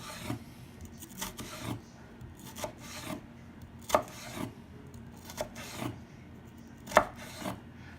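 A knife slices planks of daikon radish into strips on a board, giving a steady series of dull cutting strokes with a couple of sharper knocks, close and clear with no talking.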